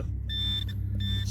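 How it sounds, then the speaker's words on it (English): A metal detector sounds two clear electronic beeps in succession over a buried target at an outdoor relic-hunting dig, steady tones over a low rumbling background. "I'm getting a good double beep"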